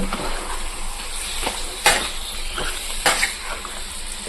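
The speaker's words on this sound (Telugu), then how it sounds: "చికెన్ వేసిన తర్వాత ఇది కొంచెం కాలాలన్నమాట" Chicken sizzles and fries in a pan for a chicken curry, a steady crackling hiss broken by a few louder scrapes and stirs of a spoon, close and fairly loud with no talking.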